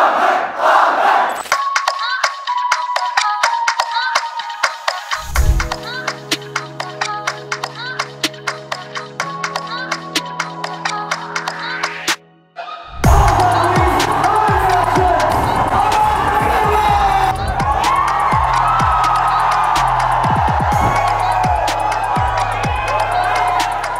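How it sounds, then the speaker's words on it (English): A large crowd at a launch event cheering, whooping and clapping, a loud continuous roar that swells in after a stretch of rhythmic music and a brief pause, with voices talking over it. "Sir, the crowd is mad for you."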